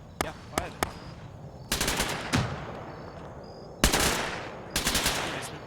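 Gunfire in the Arma 3 military simulation game: sharp single shots early on, then several loud bursts of automatic fire, with faint voices in the background.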